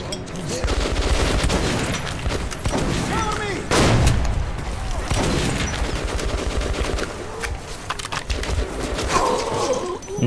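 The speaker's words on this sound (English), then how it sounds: "that they threw a grenade" A grenade explosion and gunfire in the video game Metro: Last Light: loud, sharp shots crackle throughout, and a heavy blast hits partway through amid the ongoing firefight.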